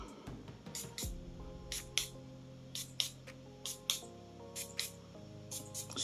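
Perfume spray bottle of Morris Xchange Noir Absolute extrait de parfum spritzing: a series of short, close hissing puffs, mostly in quick pairs, over steady background music.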